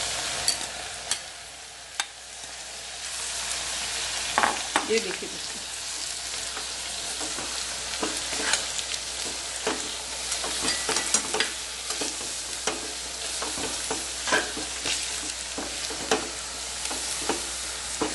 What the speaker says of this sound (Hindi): तड़का लगाएंगे।